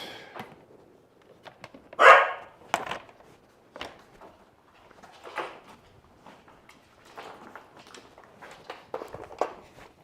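An Australian Shepherd barks in short, spaced bursts mixed with scuffling footsteps and movement, one loud close bark standing out early, outdoors during disc dog training.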